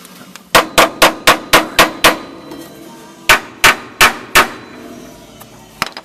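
A hammer striking metal on a car radiator support: a quick run of seven sharp, loud blows in steady rhythm, a pause, then four more evenly spaced hits and one last lighter tap.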